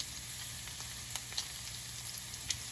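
Garlic and pork fry in a pan for Bicol Express with a steady, close hiss of sizzling, broken by a few faint ticks and pops.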